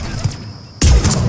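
Burst of gunfire in the Mass Effect 3 video game, a sudden loud volley of heavy shots slamming in after a quieter stretch, with thudding impacts continuing close and forceful.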